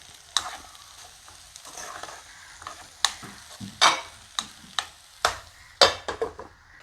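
A spoon stirring potato mezhukkupuratti in a pan, with soft sizzling underneath and a series of sharp scraping and clinking strokes coming in irregular bursts, close and alone.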